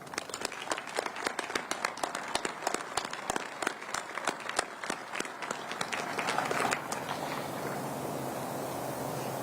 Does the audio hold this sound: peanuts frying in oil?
no